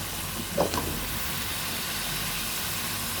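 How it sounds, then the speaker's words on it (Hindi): Cubed potatoes for an egg and potato curry fry in a pan with an even, steady sizzle throughout and a brief clink of a utensil near the start. "यहाँ पे मैंने इसमें आलू डाल लिए"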